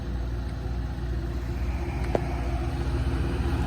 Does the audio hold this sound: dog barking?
no